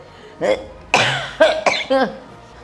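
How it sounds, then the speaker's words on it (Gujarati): Several harsh coughs from one person close by, coming in short bursts with brief pauses between them. "મને ઉધરસ થઈ ગઈ છે"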